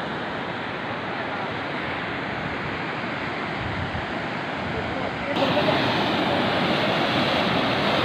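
Fast-flowing river water rushes at a dam, a loud continuous roar of churning water that swells slightly louder toward the end, with a voice faintly mixed into the noise.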